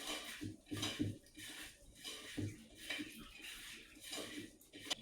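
Kozhuva fish peera mixture worked by hand in a bowl, giving soft rhythmic squelching and scraping strokes that repeat steadily, close but quiet, with no talking.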